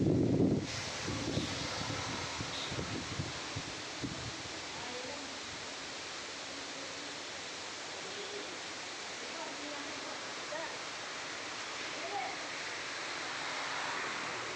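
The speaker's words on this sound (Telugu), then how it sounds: "మోంతా తుఫాన్ ప్రభావంతో గాలి వర్షం ఎక్కువగా ఉంది" Cyclone Montha wind and rain sweep across villages in a steady, broadband roar that holds for the whole stretch, with a few louder thumps and rustles at the start before settling into constant storm noise.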